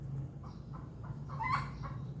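A chicken gives a few soft, short clucks in quick succession, faint and somewhat distant over a low background hum.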